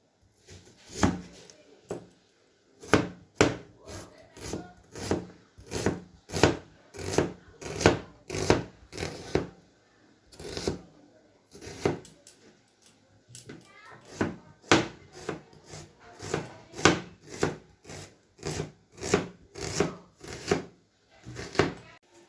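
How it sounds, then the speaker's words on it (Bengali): Onions are cut with a knife on a board in a home kitchen for Bengali mutton curry, a brisk series of distinct chopping knocks in uneven bursts, with a voice talking over them. "এবার আমি পেঁয়াজগুলোকে কেটে নেবো"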